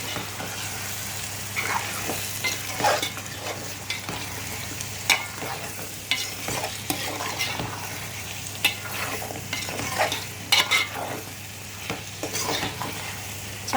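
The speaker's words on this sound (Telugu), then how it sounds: "బాయిల్ చేసిన చికెన్ యాడ్ చేసుకున్నాం ఫ్రెండ్స్. మసాలా అన్ని కలిసేలా మిక్స్ చేసుకుందాం." Boiled chicken being stirred into masala in a hot pan for chicken curry, with a steady sizzle and frying hiss beneath repeated scraping spoon strokes, close and fairly quiet, no voices.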